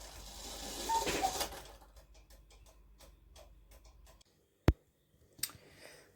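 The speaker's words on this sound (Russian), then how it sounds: "Кукушка работает." Mechanism of a cuckoo clock in Yakutsk, hung straight, giving a series of soft, evenly spaced ticking clicks close by, followed by a sharp loud clack and a second fainter knock near the end.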